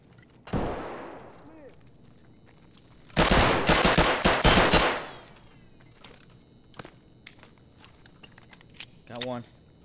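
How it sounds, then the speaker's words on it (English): Gunfire rings out in the game Escape From Tarkov: a single sharp shot, then a loud sustained automatic burst, followed by scattered fainter distant shots, with a player talking intermittently. "Where are these shots coming from is my question."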